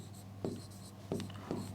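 Chalk or marker strokes tap and scrape against a board while a chemical formula is written, three short distinct strokes spaced out over a quiet room hum.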